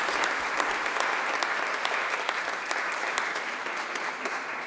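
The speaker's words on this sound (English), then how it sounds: "Please another round of applause." Steady round of applause from the audience at a festival opening ceremony, many hands clapping evenly with a few sharper individual claps standing out, moderately loud throughout.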